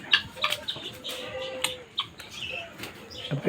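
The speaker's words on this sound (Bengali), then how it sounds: "আবার এটি আরেক জাতের মুরগি" A chicken of a particular breed clucks in short, faint bursts at a garden resort in Nilphamari, with scattered chirps and light background noise.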